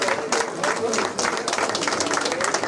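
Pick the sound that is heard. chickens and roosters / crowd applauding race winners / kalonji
crowd applauding race winners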